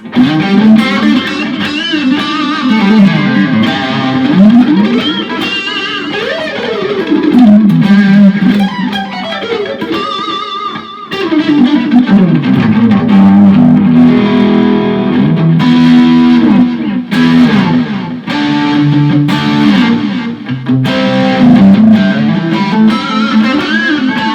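Electric guitar, a Telecaster with DiMarzio Area T and Super Distortion T pickups, played through heavy effects and distortion, sustained chords and sliding notes ringing loudly and continuously without any talking.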